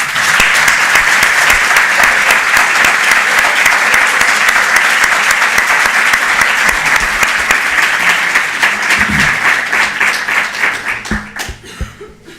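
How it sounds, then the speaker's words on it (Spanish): Sustained applause from a lecture audience honoring professor Enrique Dussel after a talk on Marx and Capital, dense and steady clapping that thins out and fades near the end, with a faint chuckle or two. "Por favor, un fuerte aplauso a nuestro"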